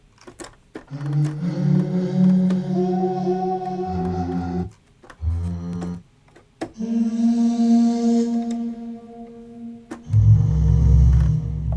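Layered, sustained synth chords made from vocal recordings, with a breathy vocal texture, shift through several held tones, separated by brief pauses, ending on a deep buzzing low note.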